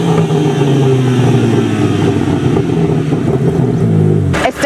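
A BMW M3 Competition's twin-turbo inline-six revs hard and close, a loud steady growl that holds through the clip before cutting off sharply at the end.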